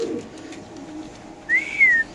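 Racer pigeons at a breeding loft give a soft coo or call in two short bursts near the end, over a quiet room hum and faint low rumbling.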